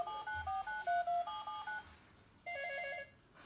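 Keypad dialing tones from a mobile phone: a quick run of short, distinct beeps, then a pause and one longer tone near the end. They are moderately loud and heard alone, with no talking.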